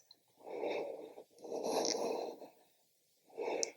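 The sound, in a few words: deep breathing during a yoga pose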